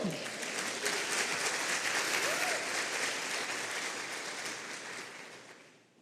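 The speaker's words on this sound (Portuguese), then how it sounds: "Você pode aplaudir o Senhor?" A church congregation applauds in a sustained, dense burst of many hands, loud and steady before tapering off toward the end.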